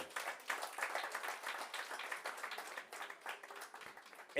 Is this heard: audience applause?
yes